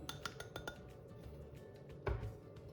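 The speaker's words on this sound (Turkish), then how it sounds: "Mısır unu tereyağıyla iyice karıştı ve durmadan karıştırıyorum" A spoon stirs and scrapes corn flour roasting in melted butter in a pan for kuymak, with a few light metallic clinks early and one heavier knock near the end, no talking.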